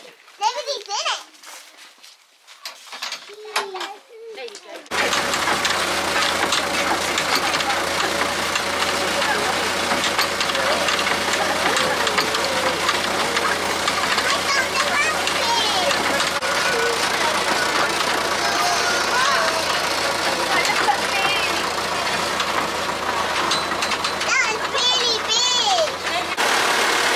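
A tractor engine runs steadily on a farm at a pumpkin patch, a loud continuous drone with a low hum that fills most of the stretch after children's voices are heard near the start.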